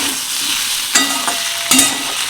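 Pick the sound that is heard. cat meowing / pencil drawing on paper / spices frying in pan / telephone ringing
spices frying in pan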